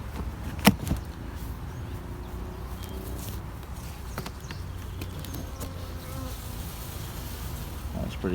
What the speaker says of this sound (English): This swarm is pretty big.